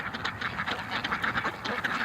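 A flock of pretty breeding-stock ducks quacks constantly in dense, overlapping calls at moderate volume, with no talk over them.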